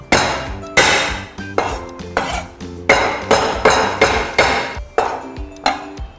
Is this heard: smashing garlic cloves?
yes